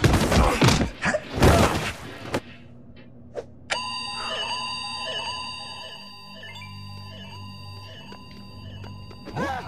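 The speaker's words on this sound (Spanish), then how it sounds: "¿Va a quedar la alarma?" An alarm sounds in the Lego City Undercover video game, a steady electronic tone that rings on continuously after a few dull thumps, holding at moderate level with no voices over it.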